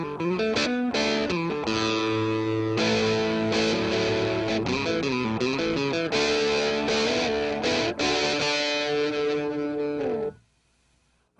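Electric guitar run through a warm distortion pedal with mid-range turned down, playing loud sustained chords and riffs for about ten seconds before cutting off to near silence.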